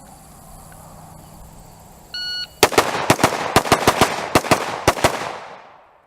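Rapid close gunshots from an AXTS MI-T556 rifle during a timed shooting drill: a short beep, then about ten sharp, loud reports in quick uneven succession, each with a brief ringing tail.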